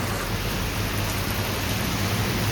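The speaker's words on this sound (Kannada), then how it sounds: "ಮತ್ತೆ ಮಳೆ ಸ್ಟಾರ್ಟ್ ಆಯಿತು." Rain pours down again, a steady broadband wash of falling water heard close and even throughout, with no one speaking.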